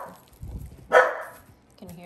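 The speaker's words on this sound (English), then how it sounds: "She's barking because there's construction happening outside." A single sharp dog bark rings out indoors in a pottery studio, brief and fairly close, amid low rustling, with construction going on outside.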